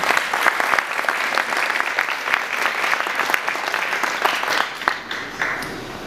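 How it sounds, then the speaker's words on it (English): Audience applause fills the Fillmore in San Francisco at a 2011 mayoral candidates forum, a dense, steady crowd clapping that stays loud and continuous throughout with no voices on top. "So give yourselves a round of applause."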